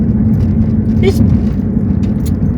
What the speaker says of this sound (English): big old truck crossing the line